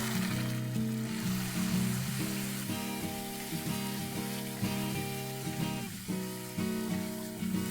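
Red chilli paste, turmeric and pav bhaji masala fry in oil with a soft continuous sizzle, partly covered by a steady tonal music bed throughout.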